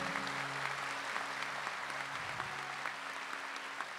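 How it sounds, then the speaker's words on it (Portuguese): Audience applause at a Brazilian church service, soft, steady clapping from a congregation heard at a distance, with sustained organ or keyboard chords playing underneath. "vamos aplaudir isso aqui"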